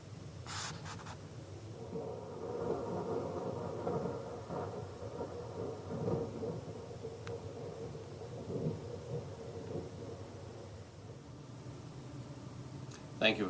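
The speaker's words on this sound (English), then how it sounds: "So the thunderstorm in the background just sort of enhances the effect" Low rumbling thunder rolls in the background of an On3 model railroad layout of the Denver and Rio Grande Western, with a brief crackle at the start, while someone talks over the storm.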